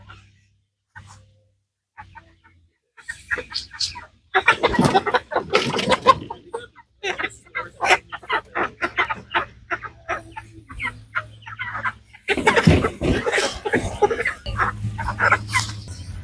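Meat-bird chickens on a farm cluck in a series of irregular bursts, quiet at first and then louder and busier, with a low steady hum running underneath.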